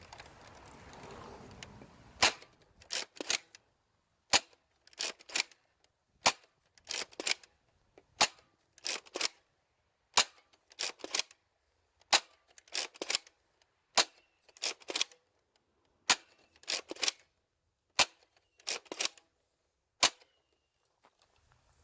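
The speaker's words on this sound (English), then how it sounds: "Now we're going to try it again with the K26 with a variety of darts." K26 toy dart blaster firing a variety of foam darts, a long series of sharp, close snapping shots at roughly regular intervals, sometimes in quick pairs, over near silence.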